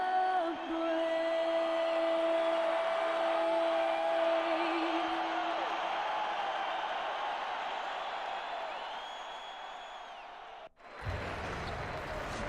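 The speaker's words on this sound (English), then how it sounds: "The crowd is assembled at BMO Harris Bradley Center looking for a Bucks victory here in Milwaukee." A large indoor arena crowd in the NBA 2K18 basketball game, Bucks at the BMO Harris Bradley Center in Milwaukee, sends up a steady roar that holds for several seconds, then thins and cuts off abruptly near the end.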